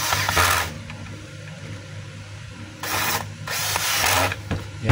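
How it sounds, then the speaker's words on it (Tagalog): A screw on the brush holder of a DeWalt D25032 rotary hammer is tightened, giving short bursts of close, dry ratcheting clicks separated by a quiet pause. "Higpitan muna natin yung screw."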